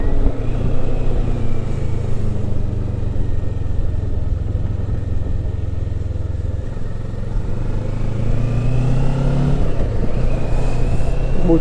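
A motorcycle engine droning steadily while riding on a French road, a continuous mid-pitched hum with a slight rise and shift in pitch near the end, heard alone without speech.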